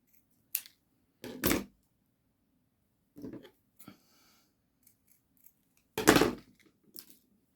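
Scissors snipping paper for a handmade journal page, several short separate cuts spaced out in a quiet room, close and crisp with pauses between them.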